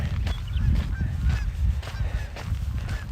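A flock of geese honks repeatedly and fairly close while a bird dog chases them, loud overlapping calls over a low rumbling outdoor background.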